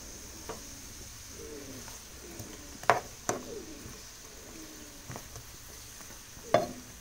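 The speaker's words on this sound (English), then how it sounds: "Onion sizzling." Faint sizzling of onion in a pan with scattered clinks and stirring scrapes, a few sharper taps standing out over a steady low crackle.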